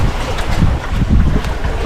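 Strong amihan wind buffeting a fishing boat out at sea before night fishing, a steady broadband roar with rumbling low gusts and microphone wind noise throughout, no voices.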